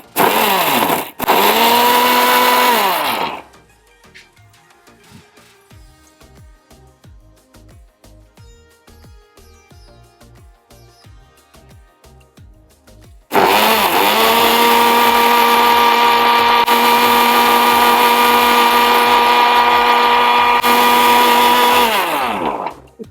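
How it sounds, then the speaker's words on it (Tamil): A kitchen mixer grinder jar blending a sweet paan drink, with two loud whirring motor bursts, one short and one long, close and steady, separated by a quieter gap of rattling and handling; no talk. "ஸோ இது மிக்ஸி ஜாரில் போட்டு இப்போ நம்ம வந்து பிளெண்ட் பண்ண போகிறோம்."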